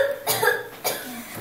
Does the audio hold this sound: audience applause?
no